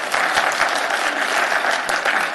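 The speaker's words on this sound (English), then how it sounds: "We don't allow clapping or yelling or hooting." Audience clapping in the gallery during a legislative assembly session, a loud, steady patter of many hands close by, with no talk over it.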